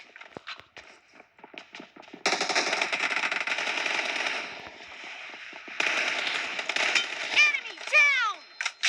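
M4 assault rifle fire in PUBG Mobile, sharp bursts and single cracks scattered over several seconds with rapid clattering volleys, mixed with game effects and a person talking over the action.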